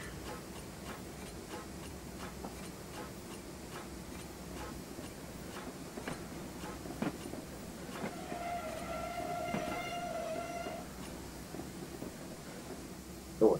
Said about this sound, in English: Oh, I do like that brake squeal.